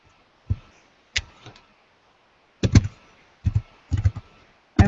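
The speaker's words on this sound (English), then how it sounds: "I'm trying not to pound on my keyboard" Keys struck on a computer keyboard in scattered bursts of clicks, close and fairly loud, with short pauses between groups of taps and no talking.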